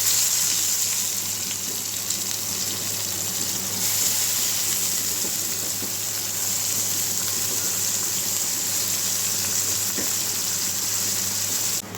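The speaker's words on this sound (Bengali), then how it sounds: "মাছটা ভাজা হয়ে গেছে, এখন নামিয়ে নিব।" Small mola fish frying in oil in a home kitchen pan, a steady loud sizzle running unbroken throughout with no talk.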